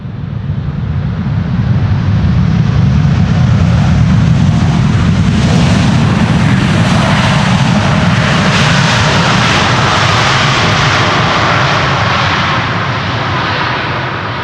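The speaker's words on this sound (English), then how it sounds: "China Southern Cargo flight 495. 777 freighter." A China Southern Cargo Boeing 777 freighter arrives on a long-haul flight, its loud, steady jet engine roar swelling and holding close overhead for the whole span before easing slightly at the end.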